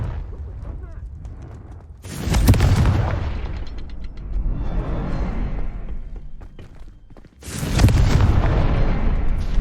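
Fire-blast spell explosions from Hogwarts Legacy, the Confringo spell, hit as two loud, deep booms with a rumbling tail between them, the second blast coming several seconds after the first.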